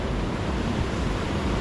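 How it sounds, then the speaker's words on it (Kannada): A steady roar of Arabian Sea waves breaking on the shore at Ankola beach, loud and continuous with no voices. "ಅರಬ್ಬಿ ಸಮುದ್ರನೇ ಇದು ಹಿಂಗೆ ಹೊಡಿತೈತಿ"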